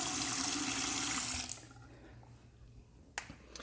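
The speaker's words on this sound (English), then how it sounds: "This sink here seems to be draining better." Water running into a bathroom sink, a loud rushing stream that cuts off abruptly partway, leaving quiet room tone with a couple of faint clicks and taps.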